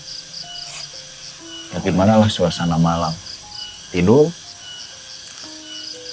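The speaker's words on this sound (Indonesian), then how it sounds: "Itu suara jangkrik berisik lah," Crickets chirp at night outdoors in a steady, thin, high trilling chorus that runs throughout, fairly faint beneath someone speaking in the foreground.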